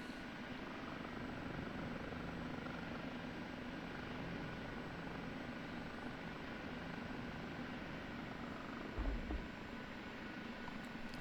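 OH-58D Kiowa Warrior helicopter in a DCS flight simulator coming down to land, a continuous dense rotor and turbine drone holding steady throughout, with a brief low thump near the end as it settles.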